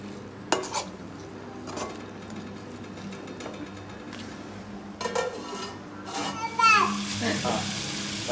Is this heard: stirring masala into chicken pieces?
yes